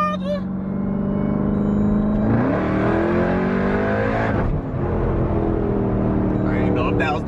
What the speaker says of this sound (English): y'all hear that supercharger?